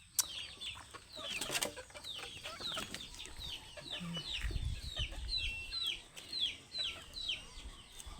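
Pet chickens cluck softly in a quiet yard, a run of short repeated clucks with occasional flutters and bumps. The sound stays fairly faint and close, with no talking.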